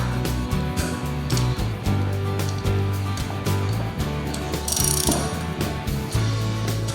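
A ratchet wrench loosens the four main cylinder head nuts in a crisscross order. It gives rapid, close mechanical clicking in repeated short strokes, with a steady low hum underneath and no talking.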